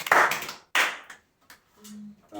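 Congregation clapping in acclaim of the Lord at a church worship service, two loud bursts of applause followed by sparse taps and a faint tone, no voices.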